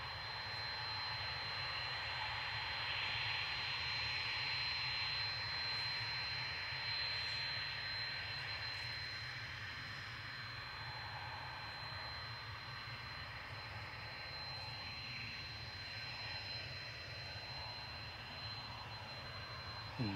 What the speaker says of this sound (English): This is heading off to Rome, CIA. It's a Hawk Beechcraft 400 for Smart Jet